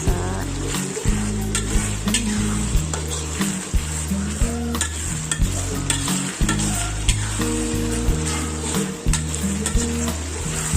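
Chopped chili being stirred as it fries in a pan with asam kandis for Padang-style dendeng batokok: a steady loud sizzle with repeated scraping stir strokes throughout, no talking.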